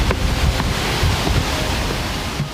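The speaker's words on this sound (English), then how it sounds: "and nothing. But a creek." A creek flows steadily on a Vancouver Island mountain hike, a broad continuous wash of rushing water with no breaks, close and fairly loud, with no talking over it.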